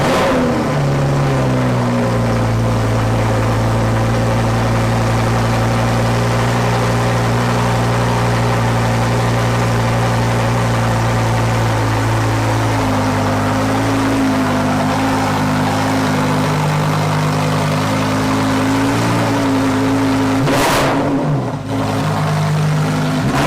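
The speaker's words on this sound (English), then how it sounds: "So the cold starts are ridiculous." A Lamborghini Huracan STO fires up cold with its exhaust valves open, settling into a loud, steady, deep idle drone with shifting tones, then a sharp burst near the end.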